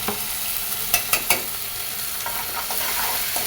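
A spoon stirs ground spices, turmeric, chili powder and salt, in a hot pan, giving a few sharp scraping clacks over a steady close sizzle.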